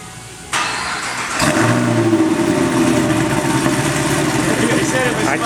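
A 2010 Chevrolet Camaro SS with the L99 V8 and Kooks headers fires up close by, then settles into a loud, steady, rumbling idle with a light rev; people talk faintly underneath.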